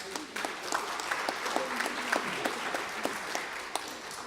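A gathering of people claps for themselves at a community campaign event, moderately distant applause with distinct sharp individual claps popping out above the general patter.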